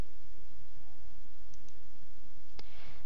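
Sharp mouse clicks in PowerPoint, a couple of soft clicks followed by one louder distinct click over quiet room hiss.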